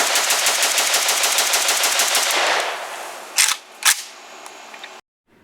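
A Romanian AK-pattern rifle built from a kit fires a loud rapid automatic burst that rattles on for about two and a half seconds and then fades, followed by two sharp separate single shots and a faint trailing tail.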